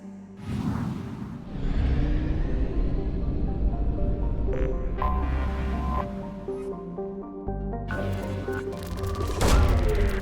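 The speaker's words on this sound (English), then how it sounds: "Probe launched." A probe launches in the sci-fi video game Mass Effect 2, with several whooshing bursts and thuds over sustained electronic tones.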